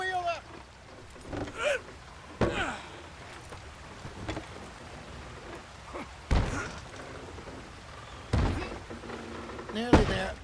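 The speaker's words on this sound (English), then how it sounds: "All right, Charles, you and me hold the thing up while you try and put the wheel back on, Arthur." In the video game Red Dead Redemption 2, a wagon wheel is lifted and fitted back onto a wagon, with scattered wooden knocks and thuds between stretches of talking.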